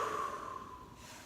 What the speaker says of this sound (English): I'm just going to invite you just to do 2 more strong exhales.